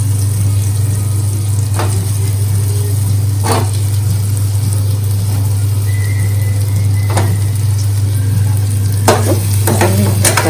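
Masala-stuffed brinjals frying in a pan for gutti vankaya curry, giving a steady, loud sizzle throughout with a few sharp scraping stirs and clatters of the spoon against the pan.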